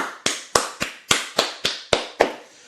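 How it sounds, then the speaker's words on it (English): Hand claps in a sparse round of applause at a wrestling podcast, about nine sharp, evenly spaced claps over a few seconds, close and fairly loud with no talking. "Let's give him a round of applause"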